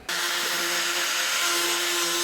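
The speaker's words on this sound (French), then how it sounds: "puis on va y couper à la meuleuse." An angle grinder cuts through a corrugated roof sheet during asbestos removal and roof insulation renovation, a loud, steady, high-pitched whine with a sustained tone running unbroken from start to finish, close by.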